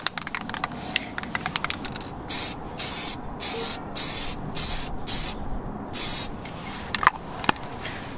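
A rattle of light clicks gives way to a run of about seven short, sharp hissing spray-can bursts as a third and final coat of paint goes onto Volkswagen GTI brake calipers.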